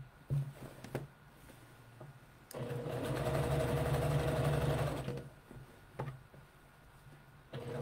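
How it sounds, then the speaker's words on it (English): A sewing machine runs close up while stitching the side seam of a shirt, about a needle width from the edge, in one steady burst of a few seconds, with quiet handling clicks before and after. "I'm going to stitch a needle width away. And I'm going to go all the way up the side seam"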